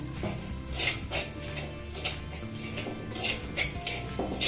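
Flattened rice (aval) and cashews being stirred in a clay pan, giving a steady scraping and clattering with repeated spoon knocks against the pot, close up and with no talking.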